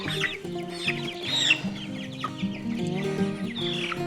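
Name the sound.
meat chickens clucking while being moved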